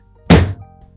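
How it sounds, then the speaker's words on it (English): One big, heavy knock on a door, a single loud, deep thud that dies away quickly into quiet. "A big knock"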